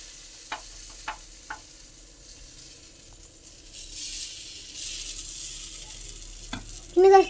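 Egg dosa frying in oil on a pan, with a steady soft sizzle throughout and a few light clicks of a utensil, ending on a short louder scrape.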